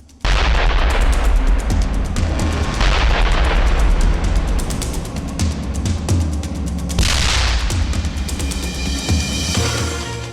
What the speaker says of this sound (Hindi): रयाजान में स्थानीय लोगों ने 12 बार विस्फोट की तेज आवाजें सुनी।